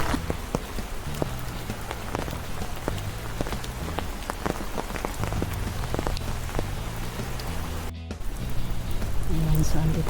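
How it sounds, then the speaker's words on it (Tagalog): Steady rain falls around a paved walking path at Victoria Peak Garden, with dense patter and distinct drops striking nearby surfaces, close and continuous. A brief clatter or handling noise comes near the end. "Maulan talaga."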